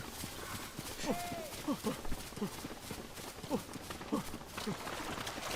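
Rhythmic clip-clop of horse hooves at a walk in The Legend of Zelda: Tears of the Kingdom, steady and fairly close, with a brief whinny and light game ambience.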